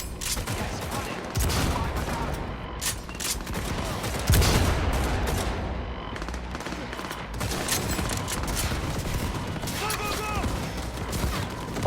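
Continuous gunfire during Cyberpunk 2077 combat: dense, rapid automatic bursts and heavier impacts blend into a loud, unbroken barrage, with voices faintly present underneath.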